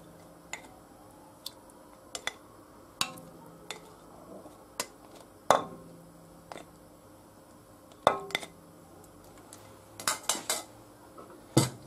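A spoon clinks and scrapes against a pressure cooker pot while potatoes, vegetables and meat are stirred, giving scattered sharp metallic knocks over a quiet background.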